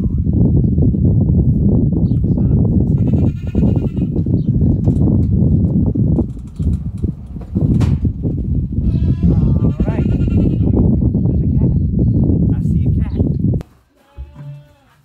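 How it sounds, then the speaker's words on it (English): Goats in the Farming Simulator 2020 video game bleat several times while munching on a broken tree in the rain, heard under near-continuous talking by a player. "the goats are munching on it now"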